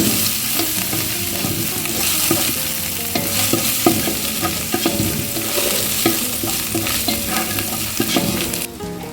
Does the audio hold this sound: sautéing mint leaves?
yes